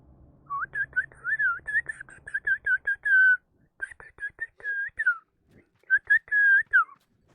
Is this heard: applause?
no